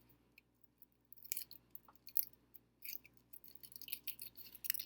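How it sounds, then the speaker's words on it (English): Crinkly, intermittent rustling of a foil Rolo candy wrapper being peeled open close by, with sharp crackles in bursts that grow busier toward the end, no talking. "And then we're going to grab our Rolo and we're going to unwrap him."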